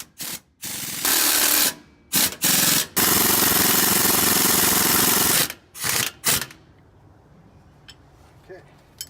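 An impact gun runs down trac bar bolts in several bursts, some short and one long and sustained, loud and close. Quiet gaps between the bursts are followed by a tapering tail.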